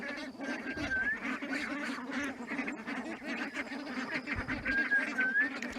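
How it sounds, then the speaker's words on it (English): Ducks quack repeatedly in a busy farmyard chorus on a Sunday morning just after being moved, with fowl calls overlapping steadily and a couple of higher squeaky calls standing out. "We just moved the ducks."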